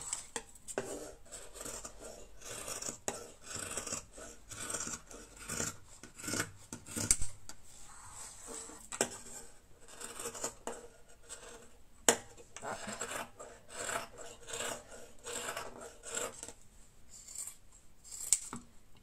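Repeated snipping and rasping scissor cuts through fabric for a beret, close up and irregular, with brief pauses between strokes; the scissors are dull.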